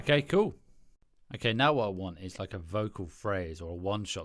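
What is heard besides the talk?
No everyday noises stand out.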